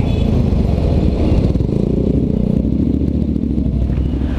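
A Honda X-ADV 750 automatic scooter-style motorcycle rides through congested city traffic, its engine a steady, loud drone with a constant low rumble and no pauses, heard up close.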